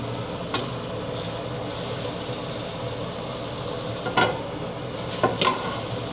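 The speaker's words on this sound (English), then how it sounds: "So I really just want to sear the ends." Sous vide steak sears in a hot pan, a steady close sizzle running throughout with a few sharp clatters as it is moved and pressed, no voices.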